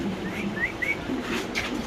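Pigeons kept for sale coo softly, with a few low, throaty calls and brief whistly notes repeating close by over a short stretch.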